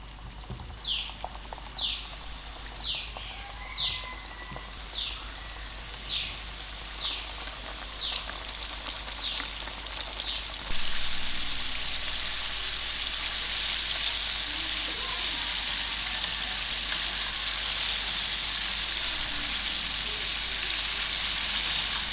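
Chicken thighs fry in hot oil at home, a steady broadband sizzle that grows louder and denser partway through; faint repeated chirps sit above it early on.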